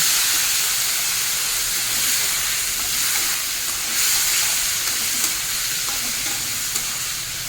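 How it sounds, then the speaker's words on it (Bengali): Spice paste with ground chilli and spices, thinned with a splash of water, sizzles and steams steadily in a pan for a Bengali chorchori, a loud continuous hiss with faint stirring scrapes throughout. "জল দিয়ে মশলাটা একটু ভালো করে কষিয়ে নেব।"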